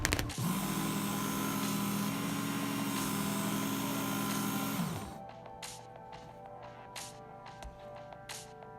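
A Work Sharp knife and tool sharpener runs loudly with a steady motorized whir of its belt grinding a blade for about five seconds, then shuts off, leaving faint clicks and light handling noises.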